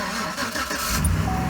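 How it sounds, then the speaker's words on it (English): An old farm truck's engine cranks briefly and catches, rising into a close, rough rumble. "So we'll start the old farm truck up"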